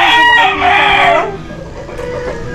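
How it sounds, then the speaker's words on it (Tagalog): A rooster on a rooftop poultry farm crows loudly and close, with one long, strained call that fades into quieter background sounds. "ipapakita ko na po sa inyo yung kung anong klase ang mga manok meron kami dito ngayon"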